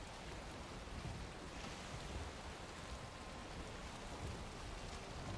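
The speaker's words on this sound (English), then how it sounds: "The moment I go into the meadows, it starts raining." Steady, even rain in Valheim hisses softly and continuously, a faint wash of falling drops in the meadows with no voices.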